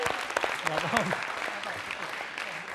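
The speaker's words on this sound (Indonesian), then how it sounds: "kita beri tepuk tangan dulu untuk Ilham dan Dida." Enthusiastic applause from a TV quiz show audience, steady clapping throughout with voices mixed in underneath.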